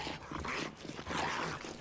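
Dogs in the survival video game 7 Days to Die, a busy stretch of barking, yips and whimpering growls carried over continuous game noise, moderately loud and without speech.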